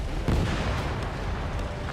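A missile strike destroys a UAV in the combat flight game Ace Combat 7, heard as a loud, muffled explosion with a heavy rumbling boom that sustains through the whole moment without any talk.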